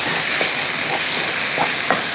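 Continuous frying hiss from a hot pan, with a few soft scraping strokes of a spoon pushing thick paste around, close and steady, no voices.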